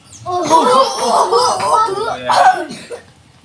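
A voice imitates a cough in a storytelling setting, giving a run of rough, throaty hacking bursts with a chuckling quality, loud and close.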